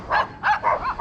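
Dogs bark outdoors, four or five quick barks in a steady rhythm at moderate distance, with no voices.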